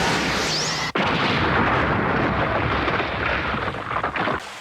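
A Spirit Gun energy blast from the anime Yu Yu Hakusho, a sudden explosive burst followed by a loud, sustained roaring rumble that fades out after several seconds.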